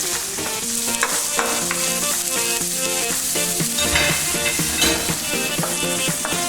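Onions and garlic frying over medium heat in a pan while being stirred, a loud continuous sizzle with scraping stir strokes running throughout.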